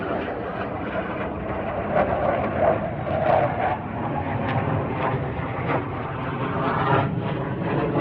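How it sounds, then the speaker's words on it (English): Aircraft engines rumble overhead in a continuous, swelling drone that rises and falls slightly, steady and fairly loud, with no speech. "where are these airplanes coming from?"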